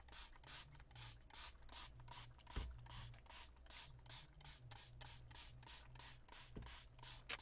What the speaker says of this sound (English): So first I'm going to prepare the paint, which means I'm going to spray them.